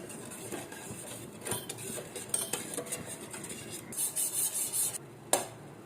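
A spoon stirs sugar and water in a pot, scraping and clinking against the metal in quick, uneven strokes, with a louder knock near the end.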